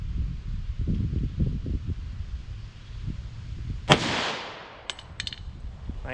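A single sharp .45 ACP handgun shot from Liberty Civil Defense ammunition cracks out of a quiet outdoor range, followed by a long decaying echo and a couple of faint clicks.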